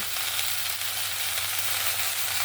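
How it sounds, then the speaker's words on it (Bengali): Garlic, ginger, coconut and cashews fry in a pan with a loud, steady, unbroken sizzle that stays close and even throughout, with no voices. "কাজু বাদাম দিয়ে এগুলোকে ভালো করে একটু ভেজে নেব"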